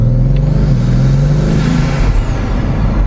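A Bugatti Veyron Grand Sport with a seven-speed double-clutch gearbox drives with the roof open, its engine a loud, steady low drone that climbs in pitch, shifts, and climbs again, close and with no voices.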